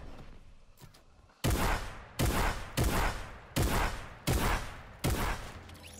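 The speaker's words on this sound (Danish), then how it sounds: "Han vendte han sig rundt og begyndte at skyde." Gunfire in the video game Fortnite: six loud, sharp bursts of shots at a steady rhythm of roughly one every second, following a quieter stretch of background game ambience.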